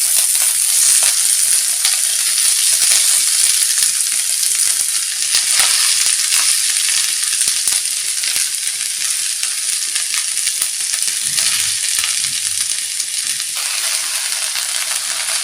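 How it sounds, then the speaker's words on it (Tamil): Chopped vallarai (pennywort) leaves sautéing in a spoonful of oil in a pan: a steady, bright sizzle throughout, with occasional light scraping as the leaves are stirred. "அதுலேயும் 1 ஸ்பூன் எண்ணெயை சேர்த்துட்டு நம்ம நறுக்கி வச்ச வல்லாரை இலைகளை போட்டு"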